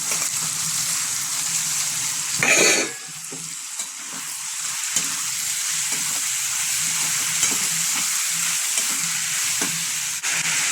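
Dried fish frying in a hot pan gives a steady, close sizzle, with a brief scraping stir early on and light clinks under the continuous crackle.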